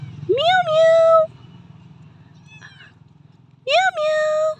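A black kitten meows twice, close and clear, each call rising then holding steady, with a gap of low background hum between the calls.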